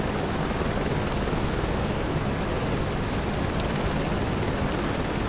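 Helicopter rotor blades chopping in Microsoft Flight Simulator 2024 career mode, a steady, loud, dense wash of broadband rotor and engine noise that runs unbroken throughout with no voices.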